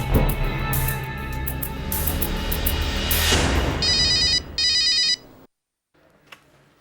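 A telephone rings over loud dramatic background music in a television drama scene, with a bright repeating electronic ring in two bursts before the sound drops away to near silence.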